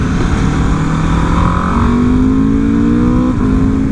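A 2024 Aprilia RSV4 engine revs steadily and loudly up close, its pitch climbing smoothly as the exhaust valve opens partway through, with constant road and wind roar underneath during a demo ride.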